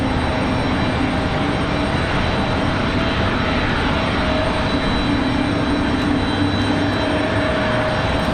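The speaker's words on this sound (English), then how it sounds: "Got a Delta connection, E175 headed back to Boston, Massachusetts on the way out as well." A Delta Connection Embraer E175 jet departs Raleigh Durham airport in windy conditions, a loud, sustained engine roar with a faint steady whine, unbroken and without voices.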